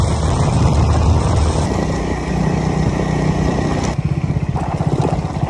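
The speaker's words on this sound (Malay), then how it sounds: "sebab tu aku naik motor" A motorcycle rides along a rural village road, its engine droning loud and close, then dropping to a pulsing, lower-revving chug in the last seconds.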